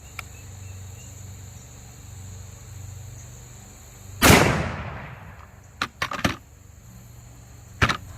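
A 400 Legend AR rifle firing 200-grain hardcast handloads outdoors, with one loud sharp blast echoing and decaying, followed by a few quieter shots or sharp clicks, over steady insect chirping in the background.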